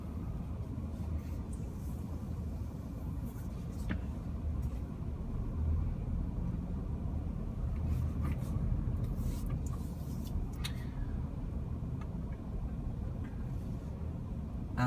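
A 2016 Audi Q5 2.0 turbo with quattro all-wheel drive and automatic gearbox cruising on the road, steady low engine rumble and road noise from inside the cabin, continuous and fairly even throughout.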